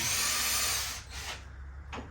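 A power drill whines loudly as it bores a large hole in a tool box, then winds down and stops; a brief second burst of drilling follows near the end.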